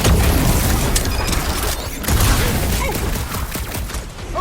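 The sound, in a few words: blaster gunfire in Guardians of the Galaxy video game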